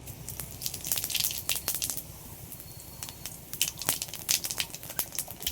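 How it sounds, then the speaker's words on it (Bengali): Cumin seeds tempering in hot oil for a Bengali fish curry crackle and pop in quick, irregular sharp bursts over a soft background hiss, with no talking. "ফোড়নে দিয়ে দিচ্ছি জিরে"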